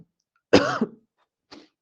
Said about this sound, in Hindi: सॉरी, खांसी लगी हुई थोड़ी